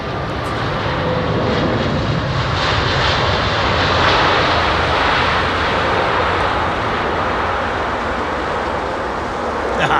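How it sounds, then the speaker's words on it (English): A Boeing 787 airliner landing on runway 27R at London Heathrow, a loud continuous broadband engine roar and rushing air that holds steady for ten seconds, close and unbroken. "Chunky aircraft, isn't it? 787."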